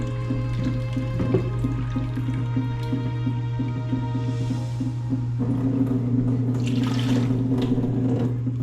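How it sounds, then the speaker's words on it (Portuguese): Tap water runs steadily into two small cups in a home kitchen, a continuous near stream with a hum underneath that brightens as the cups fill toward the end. "Aqui eu vou encher então esses 2 copinhos de água"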